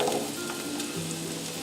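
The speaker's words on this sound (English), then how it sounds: "And now I'm going to let this fry for about 30 seconds." Garlic sizzles steadily in a hot pan at the start of a vegetable soup, a close continuous frying hiss with light stirring and no voices.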